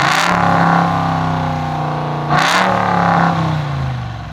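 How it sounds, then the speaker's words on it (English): A Dodge Ram TRX pickup's engine revs twice through a loud exhaust, rising into a roar and settling back to a deep idle rumble between blips. "Why don't we give that exhaust a listen and just see how good this truck sounds."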